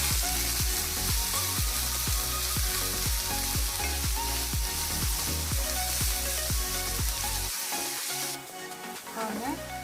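Onions and curry leaves sauté in a pan for an eggplant gravy, giving a steady sizzle broken by regular rhythmic stirring scrapes, close and loud, before the frying quiets near the end.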